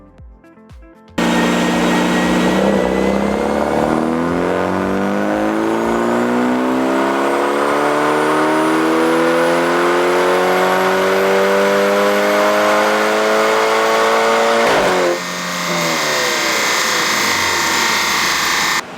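A BMW F30 engine revs on a dyno in one long, loud, steadily rising pull that lasts about fourteen seconds, then dips briefly and holds high again.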